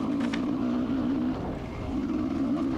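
A dirt bike engine droning during a vintage motocross trail race on a coal road, a steady mid-pitched motor hum that dips briefly and resumes, continuous and moderately loud with no talking.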